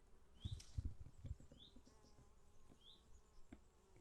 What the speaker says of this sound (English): These bees are relentless.